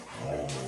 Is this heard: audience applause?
no